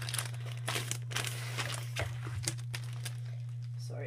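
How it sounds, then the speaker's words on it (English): Plastic packaging from a scrapbooking haul crinkles close to the microphone in irregular bursts, over a steady low electrical hum. "Sorry about the crinkling"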